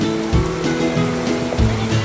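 River water flowing along the bank at Tok Bak Campsite in Tanjung Malim, Perak: a continuous broadband rush and gurgle with small splashy surges, steady and fairly loud, with no voices.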